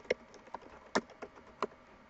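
A few light computer keyboard keystrokes, up close and sparse, as a website address is typed in. Five or six distinct clicks come at irregular intervals, with no voices.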